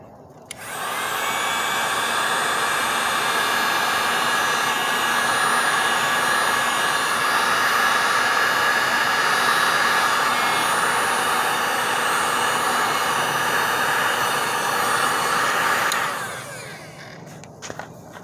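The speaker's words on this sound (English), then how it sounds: "got my little heat gun. Going to shrink my heat tube" A small heat gun shrinks heat shrink tubing during a Bissell Pro Heat 2x brushroll motor repair. Its loud, steady blowing whine runs close by for about fifteen seconds, then cuts off.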